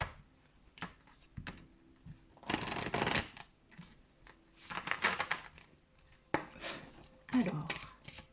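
Oracle cards shuffled by hand in several short bursts of papery riffling and slapping, close and clear, separated by quiet pauses.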